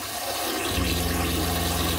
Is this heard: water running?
yes